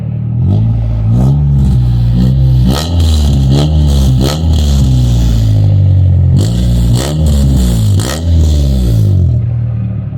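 A Honda Civic engine on stock headers with the muffler still fitted revs repeatedly, loud and close, with rising and falling sweeps as the throttle is blipped and released in quick bursts.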